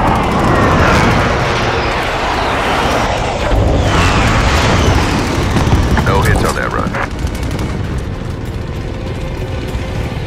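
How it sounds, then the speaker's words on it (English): An airstrike in Call of Duty: Warzone roars through as loud, dense rumbling blasts and rattling mechanical bursts, with aircraft noise sweeping over continuous heavy explosions and gunfire. "Target marked. Commence airstrike."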